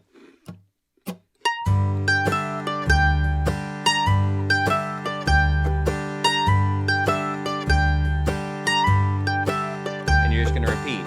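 Bluegrass mandolin lick played once per bar and repeated over a looped backing chord, bright picked notes in a steady rhythm after a few sparse opening plucks, up close with no talking.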